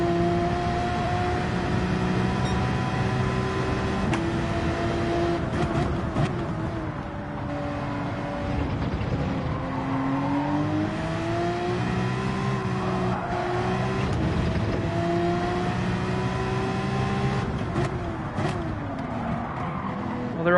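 Race car engine in Gran Turismo revving and shifting through a lap, with steady rising and falling harmonic whine, tire squeal and passing cars, loud and continuous throughout.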